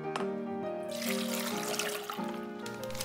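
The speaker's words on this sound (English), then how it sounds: "Put 1 liter of the water in the pot and heat it." A liter of water runs into a cooking pot at close range for dashi soup stock, a steady trickling pour whose tone shifts as the pot fills, with no voices.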